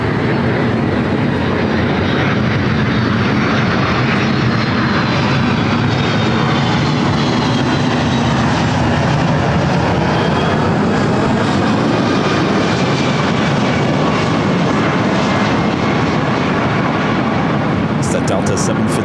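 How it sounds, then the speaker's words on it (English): A Delta Boeing 757-300 airliner arriving from Atlanta at Los Angeles airport, its broad engine roar loud and steady throughout, with a voice talking over it. "Delta 757-300, this flight coming in from Atlanta, Georgia."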